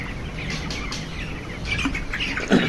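On a poultry farm, a flock of 22-day-old broiler chickens keeps up soft, scattered chirping and peeping in a shed, with a moderate background hum and no talking.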